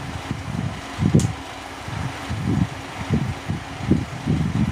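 Air conditioner fan running on its low setting just after power-up, a steady low whirring hum with uneven pulsing throbs, heard close and alone with no voices.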